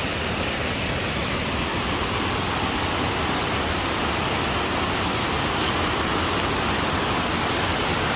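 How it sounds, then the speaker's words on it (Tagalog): Strongly flowing water rushes steadily and loudly throughout, a dense, continuous roar like a nearby waterfall or fast stream with no pauses. "malakas din yung tubig doon"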